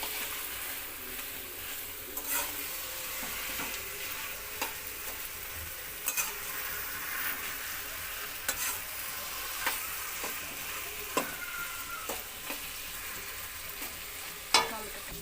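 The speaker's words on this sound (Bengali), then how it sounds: "এবারে সব কিছুকে একটু হালকা নাড়িয়ে চাড়িয়ে নেওয়া হবে খুন্তির সাহায্যে" Spatula stirring curry in a pan after chili powder and turmeric go in, with the taste of hilsa fish head and taro greens; soft continuous sizzle with scattered scraping clicks, steady and fairly quiet, no talk.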